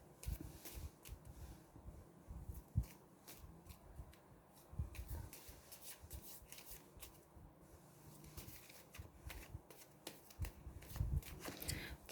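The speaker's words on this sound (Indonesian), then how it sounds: "Kita lihat sambil saya kocok kartunya." Tarot cards being shuffled by hand, a soft continuous riffling and flicking that runs throughout at low volume with no talk.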